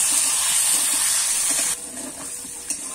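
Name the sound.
potatoes frying in oil with salt and turmeric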